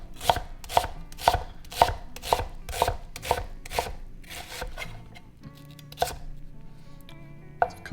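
A knife chopping across an onion on a board, a quick even run of crisp close chops followed by a few slower, more spaced cuts, with no talking.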